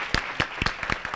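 Audience at a line-following robot competition applauding a student team, a short run of a few distinct claps heard close and fairly quiet, in a quick uneven rhythm.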